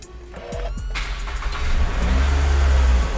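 A 2009 Toyota Alphard engine starting: a few quick cranking pulses, then the engine catches and revs up to a loud, steady, close-up rumble with no speech.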